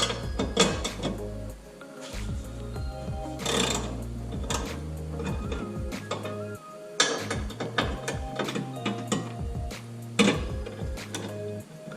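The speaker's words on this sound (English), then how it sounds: "Now I got my 13mm socket, and we're going to remove these two brackets." A ratchet fitted with a 13mm socket works loose the battery brackets in a 2010 Chevrolet Camaro SS, giving close, rapid clicking runs in repeated bursts with brief pauses and a metallic clack between strokes.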